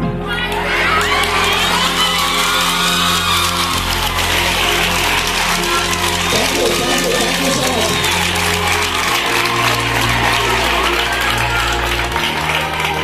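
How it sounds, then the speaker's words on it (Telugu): Crowd of schoolchildren and adults at a school gathering claps and cheers for a woman teacher, a loud steady wall of applause and shouting that runs the whole stretch, with music or voices faintly underneath. "ఒకసారి అంతా లేచి మేడం గారికి చప్పట్లు కొట్టారా?"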